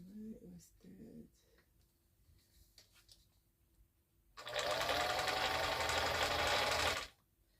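A vintage Bernina 730 sewing machine runs in one loud, continuous stitching burst of close, fast mechanical whirring for a few seconds, after a quiet stretch with brief voices.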